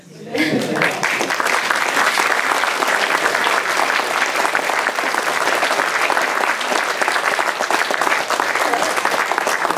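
Audience at a talk bursts into applause, swelling quickly after a brief quiet start into a dense, sustained wash of clapping that stays loud to the end.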